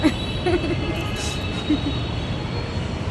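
A steady train rumble fills the scene, with a constant mechanical hum and faint clatter, like riding inside a moving Bangalore metro carriage.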